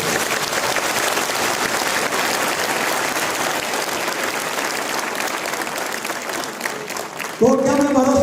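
A large audience claps loudly at a public speech, a dense, sustained roar of applause that fills the whole stretch before a voice cuts in at the end.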